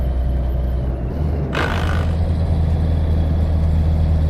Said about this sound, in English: By the sounds of it, he's pulling hard.